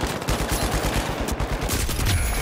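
Rapid bursts of automatic gunfire from the video game The Finals, a dense, loud fusillade of repeated shots running through the whole stretch without any talking.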